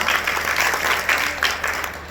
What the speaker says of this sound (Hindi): जोरदार तालियों से इनका भी अभिनंदन करें।